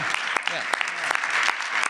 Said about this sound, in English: big round of applause for Louise Bueller and Daryl Doslaw and Wyndham Thiessen and Shane Bueller